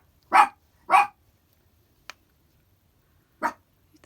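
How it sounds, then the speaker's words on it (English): A small dog barks two sharp, close yips in quick succession, then goes quiet before one more short bark after a faint click, in an otherwise still indoor room. "She always barks when she hears somebody lock their door and the little horn honks"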